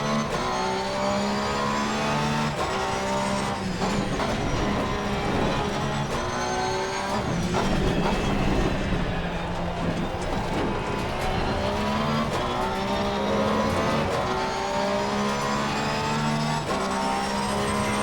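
A Porsche GT3R race car engine in Assetto Corsa Competizione at Zandvoort drones loudly and steadily, its pitch rising and falling through gear changes, with tire squeal and other cars audible in a continuous racing roar.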